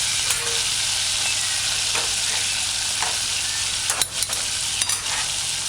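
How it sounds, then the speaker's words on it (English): Codfish chunks fry in hot oil with a continuous, dense crackling sizzle. A few sharper pops break through near the end. "add codfish chunks in heating oil. Allow it to fry crispy on each side."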